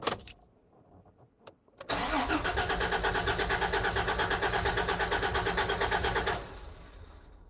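A car engine cranks with a fast, rhythmic starter chug for several seconds after a few faint clicks, then cuts off abruptly into quiet; the fuel pump priming is not clearly distinct.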